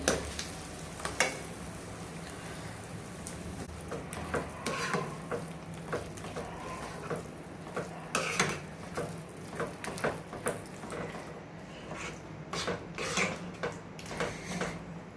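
A spoon stirs Karachi halwa mixture with food colour in a pan, with soft sizzling and a series of irregular scraping clicks against the metal, close and fairly quiet.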